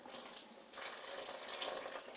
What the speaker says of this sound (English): then we're going to add our lukewarm water.